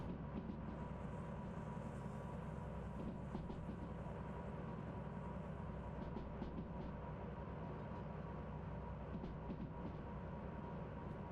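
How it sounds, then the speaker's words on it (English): A long, empty train hauled by a DH4 locomotive rolls along the track in the Derail Valley simulation game, a quiet, steady low rumble with soft rail clatter throughout. "This is a long, empty train, so I want to keep it on the track."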